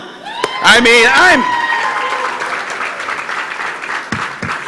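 An audience at a youth awards ceremony bursts into loud, sustained applause and cheering, with high whoops early on, then steady clapping that carries under ongoing background noise.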